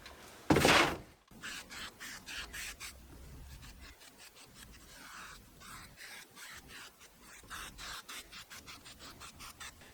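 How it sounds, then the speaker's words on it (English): A cloth rubs wax finish varnish onto stained, charred wood in brisk back-and-forth strokes, close and dry with a scraping texture, after one loud thump at the start. "I'm gonna finish it off with a coat of wax finish varnish, which I'm using for most of my projects."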